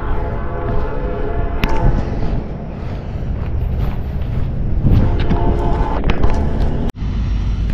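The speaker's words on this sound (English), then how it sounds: "I hear a horn honking. I mean, the train honking." A train passes near railroad tracks in downtown Baton Rouge, a steady loud rumble with brief horn-like tonal bursts over the rolling noise, heard outdoors near a parked car.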